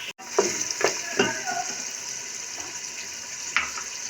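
Beef sizzling in a pan as garlic-ginger paste and green chilli paste go in, a steady frying hiss with a few stirring scrapes and clinks, close and moderately loud, no talking.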